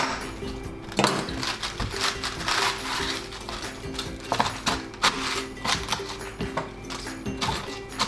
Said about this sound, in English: I'm going to chop it into about the same size with the chive.